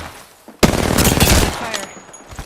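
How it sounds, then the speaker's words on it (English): Rapid automatic gunfire bursts out abruptly in a shooter game, a loud, dense fusillade of overlapping shots that rattles on for about a second and a half before tapering off, with no speech. "Making contact with enemy. Getting shot at."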